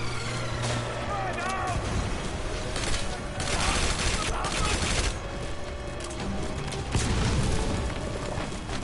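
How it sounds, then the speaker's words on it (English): Incoming mortar fire in Metal Gear Solid V, a dense run of heavy booms and rattling blasts with gunfire mixed in, loud and continuous for the whole stretch, with a voice speaking over part of it. "here come the mortars."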